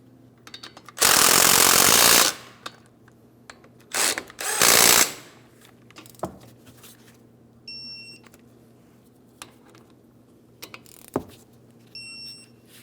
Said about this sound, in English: As for each of these slider pin bolts, snug them up and then torque those to 65 foot-pounds.